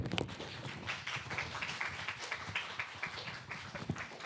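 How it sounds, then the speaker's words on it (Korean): An audience at a church youth service for middle and high schoolers clapping, a soft, steady patter of many hands heard from a distance with a slight beat to it. "박수 좀 크게 치자."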